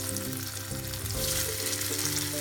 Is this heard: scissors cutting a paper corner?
no